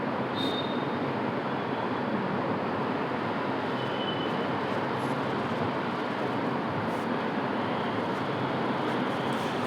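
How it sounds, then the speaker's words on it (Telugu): A Hyderabad metro train passes a platform, a steady, broad rumbling roar that stays constant and loud throughout with faint high squeals on top. "యాక్చువల్గా ట్రైన్ క్రాస్ అవుతుంది ప్లాట్ఫామ్ నుంచి."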